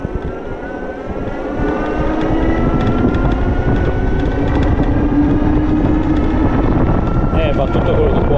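An Engwe X20 fat-tire electric bike accelerating at full throttle, its motor whine rising steadily in pitch under a loud, constant wind and road roar.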